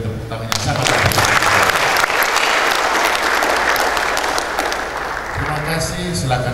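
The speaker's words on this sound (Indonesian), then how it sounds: "Mari sekali lagi kita beri tepuk tangan yang sangat baik" A crowd at a university graduation ceremony applauds loudly and continuously for several seconds, dense clapping that tapers slightly near the end as a voice begins speaking.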